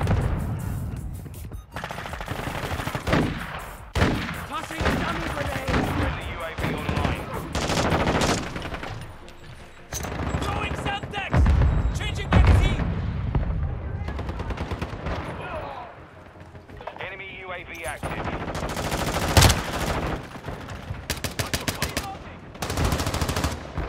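Rapid gunfire from Call of Duty Modern Warfare 2 with a Lachmann Sub MP5, dense automatic bursts and loud sharp shots almost nonstop for about twenty-four seconds, with a player's voice briefly heard between volleys.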